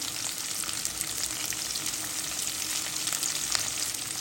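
Chopped garlic, onion, green chili and salt sizzling in hot oil in a pan, a continuous close, fairly quiet frying crackle with a few brief pops and no talk.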